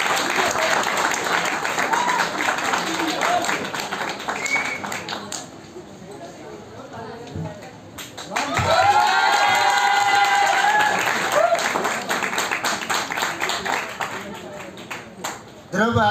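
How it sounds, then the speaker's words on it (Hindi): An independence day audience claps and cheers for a prize-winning contestant in loud bursts, with a brief lull in the middle before the applause swells again; an announcer's voice is heard over parts of it. "तालियों में कंजूसी ना करें, तालियां बजाते रहें।"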